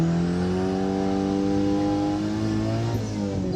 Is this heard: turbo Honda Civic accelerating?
yes